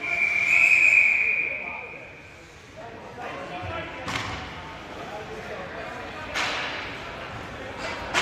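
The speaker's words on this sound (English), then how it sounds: "It sounded like a fake whistle and then a real whistle." A referee's whistle at a youth ice hockey game gives one loud, sustained shrill blast at the start, followed by scattered sharp clacks and thuds of sticks and pucks around the rink.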